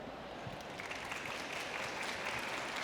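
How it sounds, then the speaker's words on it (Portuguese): A round of applause from an audience at a hospitality and tourism talk, dense and continuous clapping filling the room evenly for the whole stretch with no voices standing out. "Mais salva de palmas, gente."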